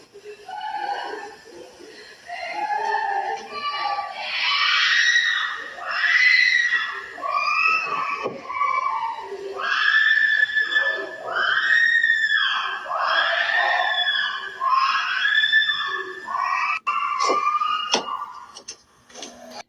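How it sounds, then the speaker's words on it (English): A woman screams repeatedly in drawn-out, wavering bursts that rise and fall over a sustained stretch, loud and close, with brief pauses between cries and no clear speech. "Maybe that's why she was screaming."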